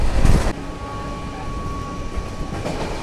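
The Jallianwala Bagh Express, train 12380, roars past at high speed near Jalandhar to Delhi, a loud, close rumble with a sharp burst at first, then a steady rolling clatter and a thin sustained tone.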